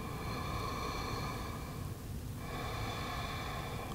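Slow, deep breathing during a beginner yoga pose, heard close and soft. A long airy breath eases into a brief pause, then another breath follows.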